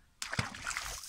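Carp tipped from a cast net hit the water at once, a sudden close splash followed by about a second of sloshing and spattering.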